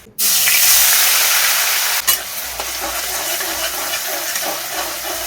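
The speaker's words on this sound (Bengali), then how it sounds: "তেল গরম হয়ে গেছে, এবার আমি পেঁয়াজ বাটাটা এর মধ্যে দিয়ে দেবো ডাইরেক্ট" Onion paste hits hot oil in a pan with a sudden loud sizzle, then a steady close hissing fry, with a clink partway through and stirring scrapes.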